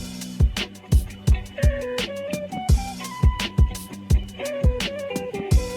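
Turntable scratch percussion sample looping inside an old-school hip-hop beat, with short pitched scratch swipes riding over punchy, steady drum hits, loud and upfront with no voices.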